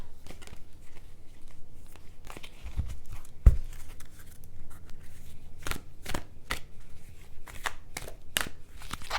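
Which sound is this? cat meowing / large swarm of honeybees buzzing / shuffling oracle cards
shuffling oracle cards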